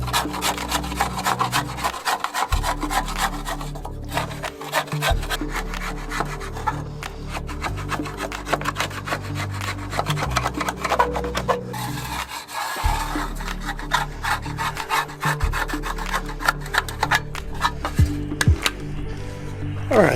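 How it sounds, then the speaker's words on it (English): A chisel scraping old adhesive and sealant off a windowsill during a school bus conversion, with continuous close, loud rasping strokes in repeated bursts and brief pauses between passes. "I'm just gonna use a chisel and go along and scrape out this old"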